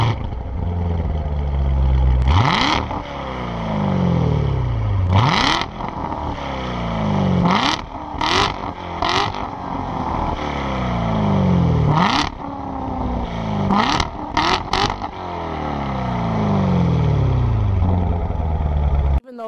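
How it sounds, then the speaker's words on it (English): A Corvette Z06 engine is revved repeatedly through its exhaust, several loud rising blips each falling back to idle, with a few sharp cracks between them, close and dominant. "let's get some exhaust sound."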